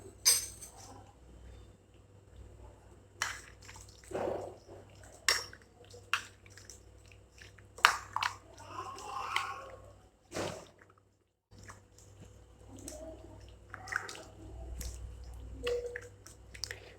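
Raw chicken being mixed by hand in a lemon juice marinade makes soft, wet squelches and squishes in irregular bursts, close and fairly quiet, with a brief silent pause partway through and no talk.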